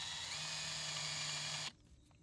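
A power drill bores a hole through the hull of a 2008 Yamaha AR230 jet boat while steering locks are fitted, whining steadily and loud for under two seconds before stopping abruptly.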